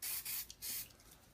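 Short bursts of hissing from an aerosol can of silicone lubricant, three quick sprays in a row, close and fairly loud, with no voices.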